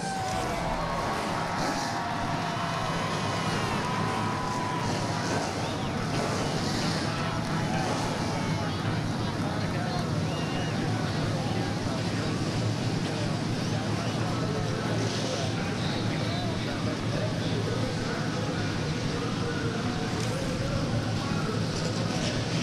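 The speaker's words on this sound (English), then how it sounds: "Engines fired up, ready to go racing here in Milwaukee." A dense, steady roar of many stock car engines starting and rumbling together at a 2007 Busch Series race in Milwaukee, loud and continuous, with crowd noise and a voice faintly audible beneath.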